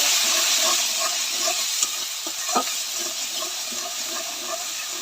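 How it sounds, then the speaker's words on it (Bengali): Water poured into fried spice paste for a thin fish curry with potato and eggplant gives a loud hissing rush that settles into a steady bubbling sizzle, with a couple of stirring knocks and no talk. "মশলাটা আমার কষানো হয়ে গেছে, এবার আমি ঝোল দেবো।"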